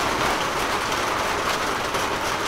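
Heavy rain falling steadily outside, a dense continuous hiss of drops that stays even and fairly loud throughout with no talk.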